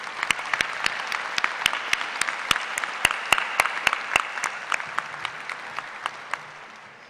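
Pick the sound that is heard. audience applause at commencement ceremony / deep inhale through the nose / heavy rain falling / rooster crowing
audience applause at commencement ceremony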